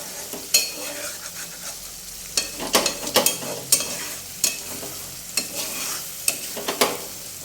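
Butter simmers down into homemade ghee in a pan with a steady bubbling sizzle. A spoon stirs through it, making frequent close scrapes and clinks against the pan.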